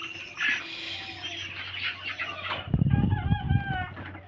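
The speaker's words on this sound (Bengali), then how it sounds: "দেখুন মোরগগুলো বেশ বড়।" Sonali chickens and large roosters on a poultry farm cluck and call, with a loud burst of crowing and squawking near the end over a constant background hum.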